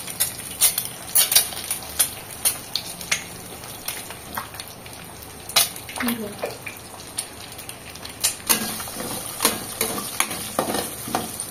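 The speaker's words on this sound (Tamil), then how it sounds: "3 முட்டை இதில் ஆயிலில் உடச்சி வச்சுட்டு" Three eggs cracked into hot oil sizzle in a pan for chicken fried rice, a steady frying hiss punctuated by sharp utensil taps and scrapes, with a voice talking faintly at times.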